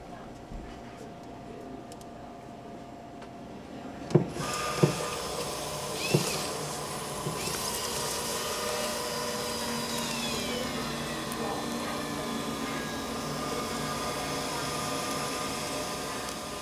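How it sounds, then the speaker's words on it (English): A digital label printer prints and rewinds a run of about 50 labels. After a few sharp clicks it settles into a steady mechanical whir and hum at moderate loudness. "all it's doing is it's printing out that 50 or 60 labels"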